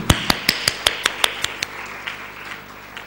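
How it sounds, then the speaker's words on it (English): A short burst of a few hand claps at an awards event, about ten sharp evenly spaced claps close by that slow and thin out before stopping, with no voices. "A huge round of applause for all our members."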